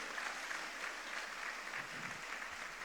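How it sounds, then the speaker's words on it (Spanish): Sustained applause from a large church congregation, a steady dense wash of clapping with no voices, continuing throughout at a moderate level. "dale un aplauso grande a Jesucristo."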